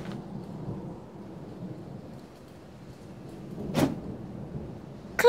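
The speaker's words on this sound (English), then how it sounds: "looks like there's a storm coming." A cartoon storm effect opens with low, quiet rumbling that builds, then a sharp thunder crack near the end and the start of a louder strike.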